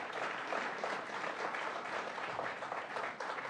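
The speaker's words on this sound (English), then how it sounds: "Let's give another round of applause to our district attorneys." Audience applause for district attorneys at a New York State budget event: steady, dense clapping from a crowd, moderately distant and continuous for a few seconds.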